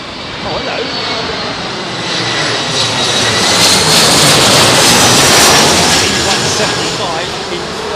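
A jet airliner roars in to land at Heathrow Airport in a crosswind, its engine noise swelling to a broad, loud rumble and whine mid-pass, then easing slightly, with voices speaking faintly alongside.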